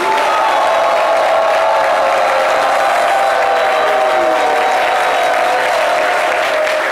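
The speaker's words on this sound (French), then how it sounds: "Ils ne cessent de nous escorter à travers leurs différents applaudissements" A TV studio audience at a French-language midday show claps throughout, a dense, loud, unbroken wash of applause with some cheering, over a faint tonal backdrop.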